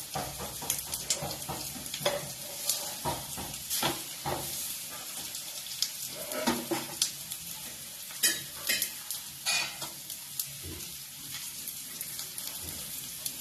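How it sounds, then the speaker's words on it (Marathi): Fish fry in a pan with a steady sizzle and occasional stirring and scraping, continuous and close, with no voices. "या बाजूला मासे पण माझे फ्राय होत आहेत"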